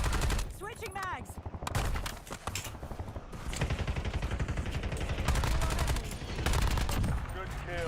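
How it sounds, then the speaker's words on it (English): Rapid bursts of automatic gunfire in the Warzone video game crackle repeatedly through the whole stretch, mixed with a player talking over the shots. "Getting shot from prison."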